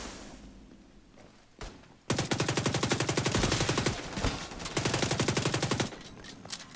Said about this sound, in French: Petite mitraillette comme ça.